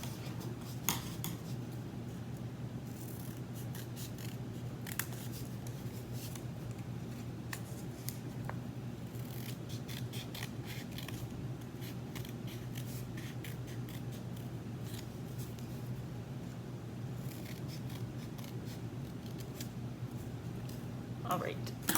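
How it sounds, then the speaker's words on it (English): Scissors cut through four folded layers of paper in soft, scattered snips and crunches over a steady low hum, quiet and close. "now you're gonna cut out on that line going through the 4 layers of the paper"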